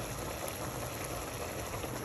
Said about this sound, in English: There it is, simmering.